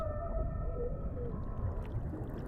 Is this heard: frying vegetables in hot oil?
no